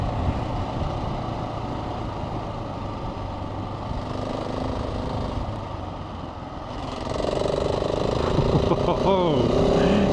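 A 2024 KTM 690 Enduro R motorcycle rides along with a steady engine drone and wind rush, dipping briefly before the revs climb and the engine note rises toward the end.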